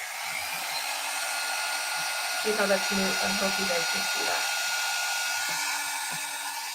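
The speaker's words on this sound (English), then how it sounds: "I'm not putting the dryer directly on top of the ink" Hair dryer blowing steadily to dry alcohol ink, working around the outer edge rather than directly on top; a continuous loud whoosh runs throughout while someone talks over it midway.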